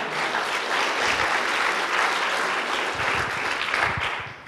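Conference audience at a Python lightning talks session applauding the speakers, a dense, continuous wash of many hands clapping at fairly close range for several seconds, steady in loudness throughout.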